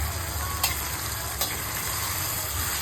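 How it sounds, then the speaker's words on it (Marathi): Chicken pieces sizzle and fry in spiced oil for a chicken biryani, a steady close hiss with two brief stirring scrapes, no talk. "चिकन टाकायचं आता फोडणीमध्ये."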